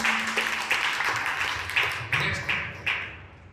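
An audience at a motivational seminar claps in a series of bursts, each swelling and fading, moderately loud, with some speech at the start.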